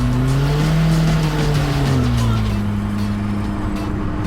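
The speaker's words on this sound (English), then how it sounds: "Little black mark, rolling burnout." A car with a cheap Amazon turbo does a rolling burnout, engine droning loudly up close as a tire squeal sweeps in pitch through the drive, sliding down near the end.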